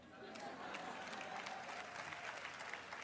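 An audience in a hall at a lecture breaks into continuous applause, a thick wash of clapping that holds steady, with some voices faintly underneath.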